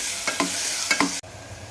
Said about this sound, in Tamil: இதையும் நல்லா போட்டு வதக்கிக்கலாம்.